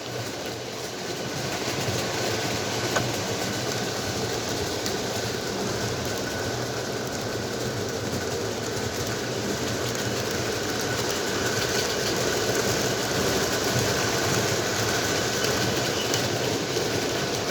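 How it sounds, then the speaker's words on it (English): An Atlas Trainman Alco RSD15 O gauge model locomotive in Santa Fe zebra stripe livery runs steadily for the whole stretch, a continuous rumbling track roar with a faint clickety rhythm and motor hum, no voices. "Atlas Trainman Alco RSD15 in the Santa Fe zebra stripe scheme."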